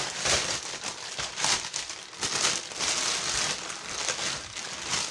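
Plastic bag being twisted closed around a lump of air-dry clay, close crinkling and rustling that comes in irregular bursts.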